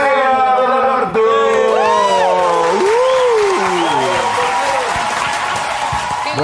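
A studio audience at a television music show applauds and cheers to welcome a band, loud sustained clapping with whoops and shouts over it, while a voice calls out and a melodic tone sounds briefly at the start.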